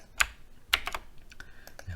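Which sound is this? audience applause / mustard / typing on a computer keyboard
typing on a computer keyboard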